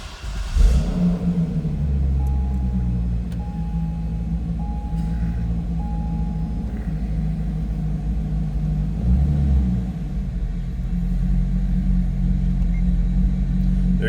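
A 2008 Chevrolet Corvette Coupe 3LT V8 cranks and catches with a loud burst, then settles into a steady, deep rumbling idle, close by and continuous, with a small swell partway through.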